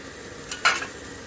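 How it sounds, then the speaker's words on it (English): Minced garlic hitting hot butter in a pan, a short sizzle burst and stir heard close and alone, briefly loud then settling. "Get our minced garlic in there. A little bit of that butter with it."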